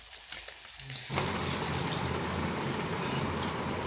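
Hot oil sizzles loudly while rohu fish curry cooks, a sudden surge of dense steady frying that starts after a quiet moment and keeps going without a break.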